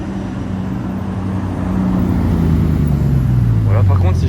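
Bugatti Chiron Sport rolling by with a low, steady engine drone that grows louder and then slides down in pitch as it passes, amid outdoor traffic noise and faint voices.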